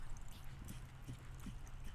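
Horse hooves clip-clopping during a driving training session, a steady low thudding rhythm of footfalls repeating at a moderate pace, fairly close, with no talk over it.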